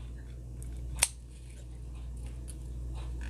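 Scissors snip once through the ribbon bow of a handmade angel ornament, a single sharp, close cut against a quiet room.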